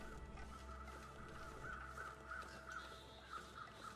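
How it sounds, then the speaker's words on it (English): Birds call and caw repeatedly in the video game The Long Dark, the cries moderately near and regularly spaced over a low steady ambient hum. "We can hear songbirds. Always nice to hear the songbirds in the game."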